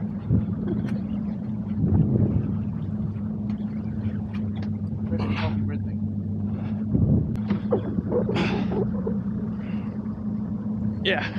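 A small fishing boat rocks on water in wind, with a steady engine hum and gusty buffeting on the microphone. People talk and call out directions over it.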